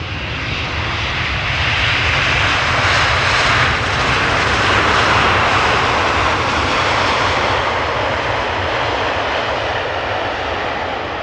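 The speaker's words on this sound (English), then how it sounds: "KLM Flight 598, arriving from Cape Town, South Africa. 777-300ER." A KLM Boeing 777-300ER arriving at Amsterdam Schiphol from Cape Town roars past loud and steady, its broad jet engine rumble swelling slightly in the middle and holding for about eleven seconds with no voices.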